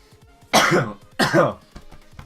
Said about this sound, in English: Sorry, 1 minute, I've got a cough.